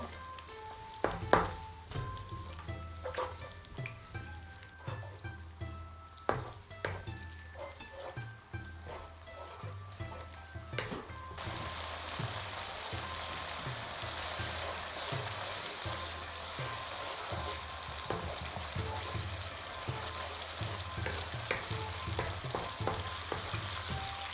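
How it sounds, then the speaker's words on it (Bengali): Masala mixed with sour yogurt and sugar cooks in a pan for a Bangladeshi shrimp roast: a spoon clinks and scrapes repeatedly at first, then a loud, steady sizzle takes over and runs on without pause. "চার টেবিল চামচ টক দই হাফ চা চামচ চিনি দিয়ে আবারও রান্না করতে থাকবো"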